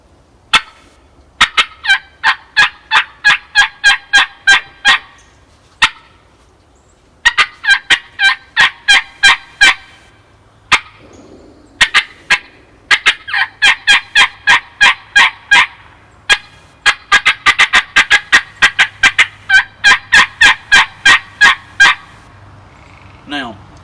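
Turkey calls imitating an excited hen, loud and close: rapid bursts of sharp double and triple cuts and yelps in quick runs, separated by short pauses, repeating throughout with no talking.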